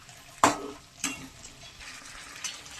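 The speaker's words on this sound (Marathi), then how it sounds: "आणि आता हे छान पहिलं मिक्स करून छान परतून घ्यायचं आहे." A spoon scrapes sharply through mutton sukka with masala as it is stirred and sautéed in a pan, giving two distinct strokes over a faint, steady sizzle, close up and with no talk.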